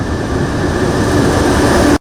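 A train rolls along a resumed rail line at Rigasa in Kaduna, a loud, steady rumble and rattle of wheels on track that continues throughout and then cuts off abruptly.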